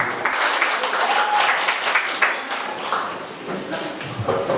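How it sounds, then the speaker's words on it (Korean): Audience at a forum applauding people coming up to the front: a sustained wash of clapping that rises and falls, with some voices and stray sounds mixed in. "여기 앞에 나오시는 분들께 좀 뜨거운 박수 좀 부탁드리겠습니다."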